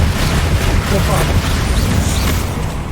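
A Bombarda blasting spell detonates in Hogwarts Legacy, a loud, dense roar of explosive rumble that fills the whole span with little letup, thick low-end boom under crackling noise.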